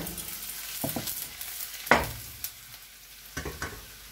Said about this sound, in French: une fois que l'huile dans le wok est bien chaude, on verse très rapidement